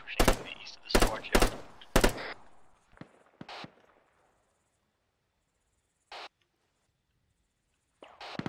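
Arma 3 gunfire: a burst of loud, close broadband cracks in the first two seconds, then a few scattered fainter shots and distant isolated reports spaced out over quiet gaps.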